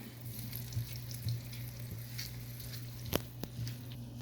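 An egg halwa mixture of eggs and milk being stirred as it fries over a very low flame gives a soft, quiet sizzle with gentle scraping and a few small clicks of the spoon. No one speaks.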